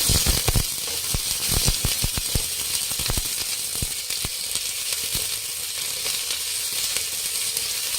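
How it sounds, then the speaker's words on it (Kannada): Onions, green chillies and curry leaves sizzle steadily in hot oil, a loud broad hiss broken by a run of sharp crackles and pops near the start that thin out over time. "ಎಣ್ಣೆ ಕಾಯ್ದಿದೆ. ಇವಾಗ ಈರುಳ್ಳಿ, ಹಸಿಮೆಣಸಿನ್ಕಾಯಿ, ಕರಿಬೇವಿನ ಸೊಪ್ಪು ಹಾಕಿ ಚೆನ್ನಾಗಿ ಫ್ರೈ ಮಾಡಬೇಕು"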